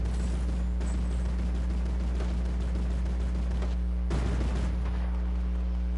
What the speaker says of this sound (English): You hear the sounds of gunfire.